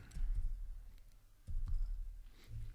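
A domain name being typed on a computer keyboard: a few quick soft key clicks in short clusters, close and fairly quiet, with no talking.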